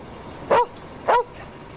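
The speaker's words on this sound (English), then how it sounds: "Friendly dog." A dog in a rural Australian police drama setting gives two short, loud barks about half a second apart, close by, with no talk over them.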